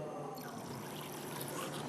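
Chlorine poured into water samples in small containers gives a steady, soft liquid trickle lasting a couple of seconds, close and fairly quiet, with some background voice.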